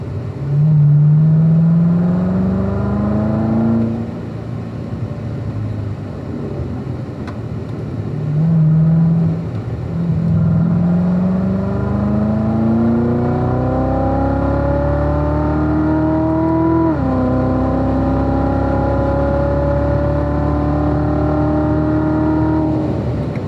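Corvette accelerating on the Spring Mountain race track, heard from inside as a loud engine that climbs in pitch through long pulls, easing off briefly between gears before building again, steady and close throughout.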